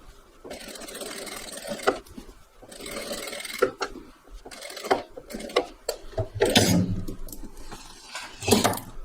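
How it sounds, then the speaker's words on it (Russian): A sewing machine topstitches along the turned-under seam allowance at the edge of a garment neckline, running in short mechanical bursts with pauses between them, close and fairly quiet. "Теперь отворачиваю припуск на изделие и можно пристрочить в край"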